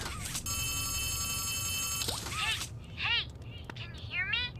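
A telephone rings in the horror game Poppy Playtime Chapter 3, a steady electronic trill lasting about two seconds that then stops, followed by voices and bird-like chirps over a low background hum.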